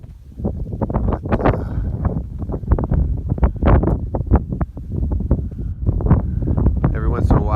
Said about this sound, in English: so I gotta talk loud because of the wind